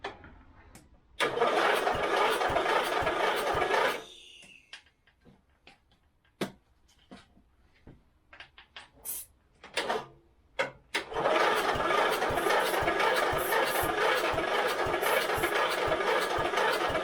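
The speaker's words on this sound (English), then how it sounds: "I'm going to see if I can get the engine going" A lawnmower engine being started with a fuel and carburetor problem: a loud burst of running engine, then a series of sharp pull-start attempts and brief coughs, before the engine catches and runs steadily and loudly again.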